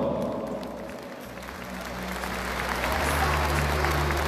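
An audience at a water-board dance and music festival applauds steadily for a performing troupe and band, the dense clapping holding loud and even for several seconds with a slight swell toward the end and some background crowd murmur.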